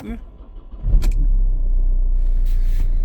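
A Volvo V50's engine cranks briefly after the car has sat unstarted for two days and catches, settling into a low, steady rumbling idle close by.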